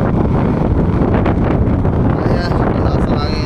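Strong wind on Fortune Island roars and buffets the microphone continuously, a loud, dense rumble with faint voices underneath.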